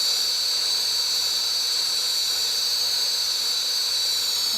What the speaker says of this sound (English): You get the flame down, so it's just about that level. You start at the bottom of the pipe. First you preheat the pipe,